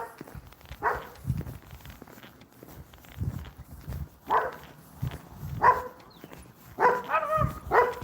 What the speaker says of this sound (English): There's 2 dogs. I hear them.